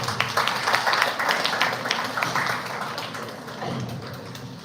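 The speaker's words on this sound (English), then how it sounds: "Let's have a round of applause," Audience at a medical college talk gives a round of applause, many hands clapping fairly close with scattered sharp claps, gradually thinning and fading out.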